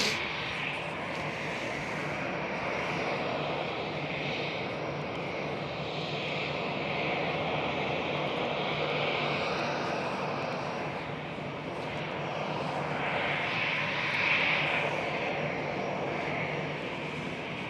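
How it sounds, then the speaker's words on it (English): A KLM Boeing 787 taxiing at Schiphol airport, Amsterdam, its engines producing a steady, continuous broadband roar that swells slightly toward the end, with no talk over it. "we are looking at the tail of a KLM 787 Sky Express taxiing by the Cathay Pacific A350 1000"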